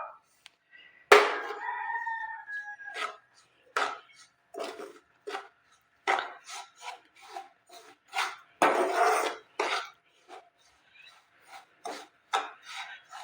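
Semolina for suji barfi is stirred and fried in a pan, heard as a series of short, repeated scraping and rasping strokes, some louder than others, with small gaps between them and no talk.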